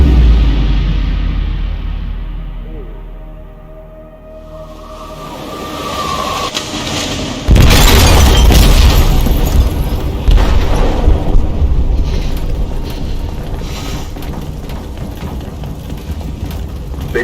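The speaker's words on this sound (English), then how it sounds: "They detonated an explosive in the hold." Explosive detonating in a ship's hold in the video game Detroit: Become Human, a deep rumbling build that bursts into a huge, sustained roaring blast, loud and close, with heavy low-end churning continuing afterward.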